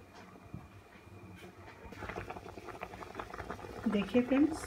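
Water comes to a rolling boil for matar pulao, a steady bubbling that swells louder toward the end, with someone talking over it.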